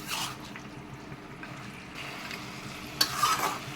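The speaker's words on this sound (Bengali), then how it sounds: "মশলার সাথে ভালোভাবে কষে নিচ্ছি" Chicken being sautéed with spices in a pan for a cashew chicken curry, a steady low sizzle with stirring scrapes, a sharper clatter near the end, no voices.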